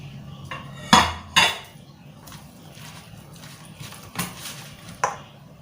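Bamboo shoots and pork mixed in a bowl for a Thai Isan-style dish, with a few sharp utensil clanks and scrapes against the bowl, two loud knocks early and softer taps later, with faint voice in the background.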